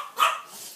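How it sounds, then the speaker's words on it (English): A single short bark from a dog indoors near an opening door, one sharp close yelp rising and fading within a split second, with no talk over it. "I think it will make her bark."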